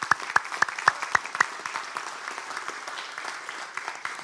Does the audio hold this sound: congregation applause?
yes